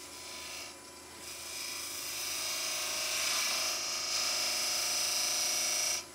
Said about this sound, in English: we'll do that with the flat of my little box scraper here